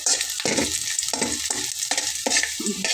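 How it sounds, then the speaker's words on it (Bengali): Garlic frying in a pan while a spatula pushes it aside, a loud continuous sizzle punctuated by a rhythmic series of scraping strokes about twice per second. "ভেজে নিতে হবে রসুনটা একটু সাইডে সরিয়ে সরিয়ে দিলাম"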